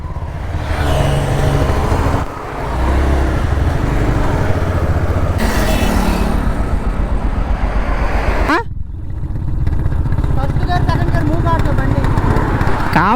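A motorcycle put in gear runs loud and close, its engine a steady rough drone that dips briefly once, with people talking over it.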